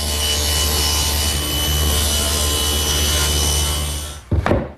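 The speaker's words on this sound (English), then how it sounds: "I've set the table saw at 10 degrees, and I beveled one edge of this larger piece." A table saw set to a 10 degree bevel rips wood pieces, making a loud, continuous whining cut that ends abruptly with a short clunk and rattle.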